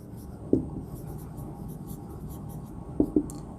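Pen on paper writes out a sentence in a quiet room. The scratching is faint and soft, with a few sharper taps from the pen, and no one speaks.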